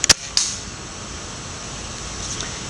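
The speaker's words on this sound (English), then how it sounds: "I'm just going to fire right next to the camera, and hopefully I will hit the target on the first shot" An ACE bow fired at a target on a firing range: a sharp snap of release followed by a second quick crack, then quiet room tone.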